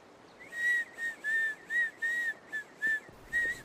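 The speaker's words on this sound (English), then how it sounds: "When I'm scared to try something new, I whistle." A person whistles a short tune of about eight clear, evenly spaced notes, close and alone with no talk.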